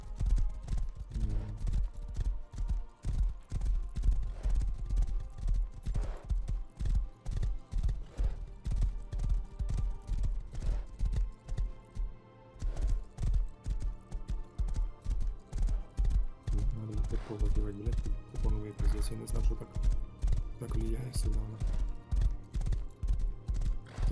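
Horses gallop in the survival game Rust, a steady, close drumming of hoofbeats that continues for the whole stretch, with a brief pause midway and occasional snorts or whinnies.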